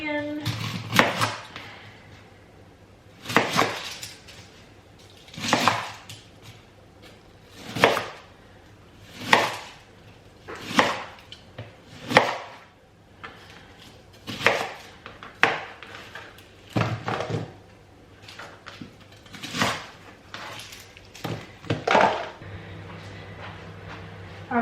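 An onion chopped on a board during home Christmas dinner cooking, a run of about a dozen separate knife strikes spaced a second or two apart, crisp and close.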